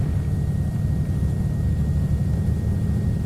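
A propeller aircraft engine in a flight simulator at full-throttle takeoff roll, a steady loud low drone with constant rumble and a faint tonal whine, continuous throughout with no talk.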